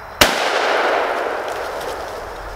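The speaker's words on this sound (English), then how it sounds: "You gotta love the destruction of a shotgun." A shotgun fires a single sharp, loud blast that destroys a pumpkin, followed by a long, fading rumble of echo outdoors.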